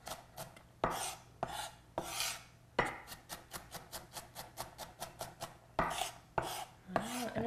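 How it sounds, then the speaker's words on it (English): A knife rocks through a pile of onions on a cutting board, making sharp, close chopping knocks, first spaced out and then in a quick regular run of taps, with nobody talking. "they'll have their pile of onions like this, Yes. and then with the point of the knife on the board, rock the knife."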